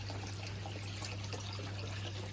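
Water runs steadily from the jets of a Master Spas Trainer 12 swim spa, partly diverted toward the hot tub seat, giving a continuous close trickling wash with a low steady hum underneath.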